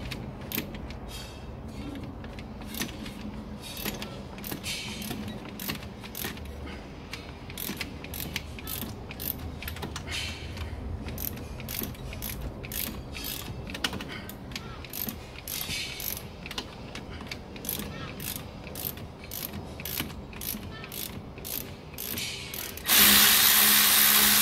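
Alfa Romeo 156 front brake caliper guide pin being undone with a number 7 Allen key, giving repeated close ratcheting clicks and metallic mechanism creaks in a steady run, ending in a burst of louder broadband noise.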